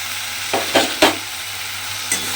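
Fried pointed gourd pieces being stirred into a spice masala in a pan, a soft steady sizzle broken by three or four sharp scraping strokes, with no talking.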